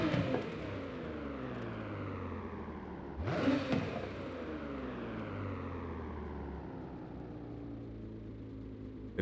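Twin-turbo Nissan Z NISMO with stock exhaust in Forza Horizon 5, its engine droning and rising through the revs with a brief louder surge partway, steady and moderately quiet with no voices.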